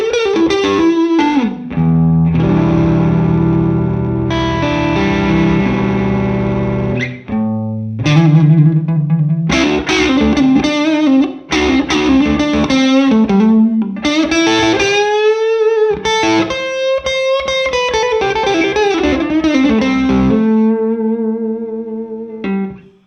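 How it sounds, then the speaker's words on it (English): Electric guitar played through a Morgan MVP23 amp with the mids and gain pulled back, a loud run of sustained chords and melodic single-note lines with bends, crunchy and up close, no talking. "if I pull the mids back a bit, just to even this tone up a bit more, I'm going to just pull back a bit on the gain, push on the master."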